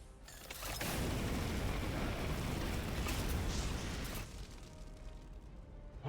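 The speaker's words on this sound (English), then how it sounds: "Let's hit him with the Promethium spray here." A Promethium flamer spray attack in Warhammer 40,000: Chaos Gate – Daemonhunters, a sudden roaring whoosh of fire that holds loud and dense for several seconds and then drops to a softer, lingering crackle.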